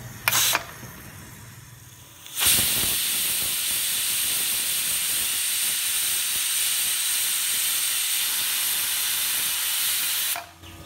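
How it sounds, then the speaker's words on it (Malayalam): Steady loud steam hiss from a pressure cooker on a home stove while cooking pea leaf thoran, bursting on abruptly after a brief click and holding for about eight seconds before cutting off. "അപ്പോൾ അതൊന്ന് വിസിലടിക്കട്ടെ"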